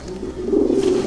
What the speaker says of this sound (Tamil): இது பார்த்திங்கன்னா நம்ம சாதா புறா தான்.